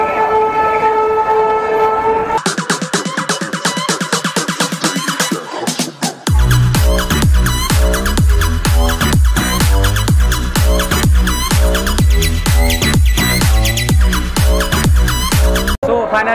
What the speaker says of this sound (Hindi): फाइनली अपनी ट्रेन टाइमली आ चुकी है।